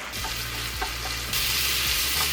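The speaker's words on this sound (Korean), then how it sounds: "고명으로 볶아주실 때는 고기를 잘 부셔주시는 게 먹기에도 좋고 보기에도 좋습니다." Ground meat stir-fries in a hot pan as a bibimbap topping for bean sprout bibimbap, giving a loud, steady sizzle broken by a few scraping stirs, with no talking.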